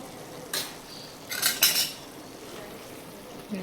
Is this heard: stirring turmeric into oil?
yes